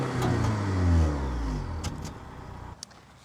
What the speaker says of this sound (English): I don't see any exhaust, but I know there are some, and they sound like this.